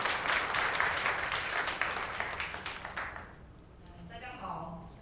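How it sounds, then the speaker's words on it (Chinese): A church congregation at a Sunday service applauds to welcome a speaker, with dense clapping up close that thins out and fades, giving way to faint voices at the end. "我们用最热烈的掌声，我们来欢迎蔡医师。"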